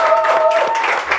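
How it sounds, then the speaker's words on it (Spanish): Brief applause for a guest on a comedy talk show, a short burst of clapping from a small audience with voices speaking over it. "Este aplauso para Ignacio."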